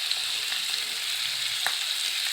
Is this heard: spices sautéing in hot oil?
yes